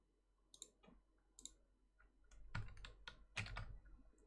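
Keystrokes on a computer keyboard, used while looking through Amiga coverdisks and games, come as scattered clicks early on, then two louder, denser bursts of typing near the end, with no talk over them.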